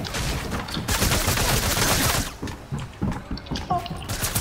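Rapid bursts of gunfire from the video game Fortnite crackle in dense volleys, with sharp repeated shots fading into scattered cracks later on, with some speech mixed in.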